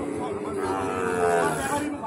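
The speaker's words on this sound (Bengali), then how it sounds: "আমরা আপনাদেরকে দেখালাম সেরা মানের ষাড় গরু" A Sahiwal bull at a busy cattle market lets out a long, low, drawn-out moo that carries through the whole moment, with crowd chatter and market bustle beneath it.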